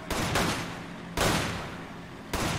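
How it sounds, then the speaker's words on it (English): Loud gunshots go off in Resident Evil 5 co-op gameplay, three sharp blasts spaced roughly a second apart, each trailing off into a long echoing decay. "I shot him in the leg. Shot him in the head."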